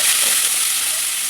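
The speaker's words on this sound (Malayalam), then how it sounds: "കടു പൊട്ടിക്കൊണ്ടിരിക്കുകയാണ്" Mustard seeds crackle and splutter in hot oil for a Kerala banana-flower thoran, a bright, steady hiss heard briefly and close with no voices.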